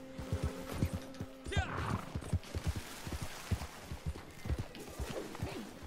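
A black horse in the Western game Red Dead Online whinnies once near the start, then its hooves clip-clop steadily and closely in an even, continuous trot over faint background noise.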